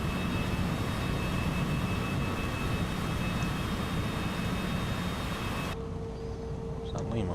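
An airliner's engines spool up as it rolls down the runway in Flight Simulator 2024 with a thunderstorm about, a steady broad roar with a faint whine that drops sharply near the end.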